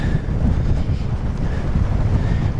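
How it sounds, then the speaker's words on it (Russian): A strong headwind buffets a rider on the road, a loud continuous roar of wind across the microphone with no break. "Ветер такой, как в стену еду."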